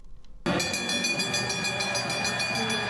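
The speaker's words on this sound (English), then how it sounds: "Our reporter, Freddie Beckett, headed over there on the tram to find out more." Rumble of a tram rolling on rails in Manchester, starting abruptly and continuing as a steady, loud, close ride with a bright tonal whine from wheels and motors.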